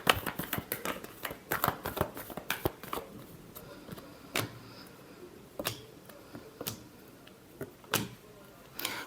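Tarot cards being shuffled during a Libra weekly horoscope reading: quiet, irregular riffling and sharp card snaps, with clusters of flicks early on and isolated slaps spaced through the rest, fairly close.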